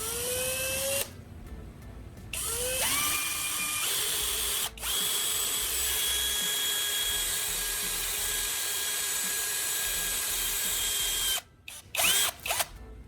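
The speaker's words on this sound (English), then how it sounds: "Hold each cap firmly and drill a small hole right in the center." A step drill bit bores into a plastic Coca-Cola bottle cap with a steady high whine, pausing briefly between runs, close and loud with no voices.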